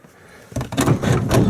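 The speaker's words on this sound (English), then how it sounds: "Open the door like that." Heavy door on a rusty Ford Freestar swung open, a sharp onset followed by a dense rattling, creaking swell that stays loud and close for about a second.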